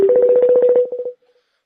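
A rapid run of about a dozen telephone keypad tones dialing a number, loud and close, with no talk over them, ending in a few fainter beeps.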